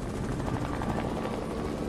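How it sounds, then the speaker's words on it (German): A helicopter in the Fortnite video game gives a steady, dense rotor-and-engine drone, even in loudness throughout, with no voices over it. "Er ist wieder im Heli drin."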